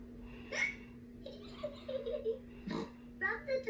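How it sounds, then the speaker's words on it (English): A cartoon piglet child hiccups in a Peppa Pig episode, a few abrupt yelps mixed with laughter and childish voices over a constant low tone. "George's hiccups are spoiling the game"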